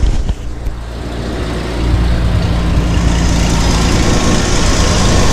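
Jeep Wrangler idling with the AC compressor engaged, a steady close engine hum with a broadband whirr that swells slightly after the first two seconds, no talking.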